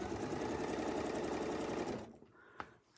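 A sewing machine stitches a baptist fan pattern across a quilt, running steadily and loud for two seconds before stopping, followed by quiet handling noises and a small click.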